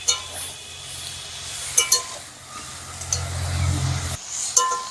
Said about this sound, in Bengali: এবার আমি সবজিটা ভালো করে ভেজে নেব